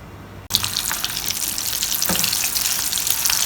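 Mutton kofta kebabs sizzle and crackle as they fry in oil, a steady, fairly loud frying hiss that kicks in abruptly after a brief quiet start and keeps going with scattered pops.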